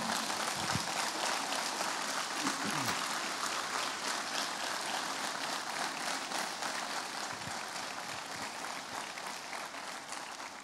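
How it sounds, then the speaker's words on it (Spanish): Sustained applause from a church congregation at a sermon, dense clapping filling the room evenly throughout and tapering slightly toward the end, with no talking. "Denle un fuerte aplauso al Señor."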